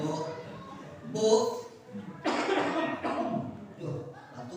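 A single cough rings out from the audience during a humorous Sundanese religious sermon, a short harsh burst set against the preacher's ongoing talk and room murmur.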